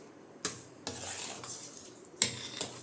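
A spoon scrapes and stirs a sweetened colostrum milk pudding (seempal) mixture in a bowl, in four distinct strokes. The scraping is close and moderately loud in an otherwise quiet kitchen.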